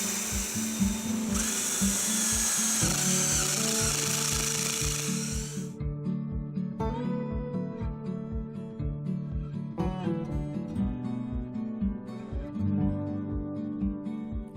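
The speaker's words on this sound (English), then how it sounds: "Then I drill 1/4 inch holes for the bolts." A power drill bores quarter-inch bolt holes for a Kubota BH77 backhoe dolly, opening with a loud grinding whine that gives way to a steady motor drone with rhythmic pulses and brief surges.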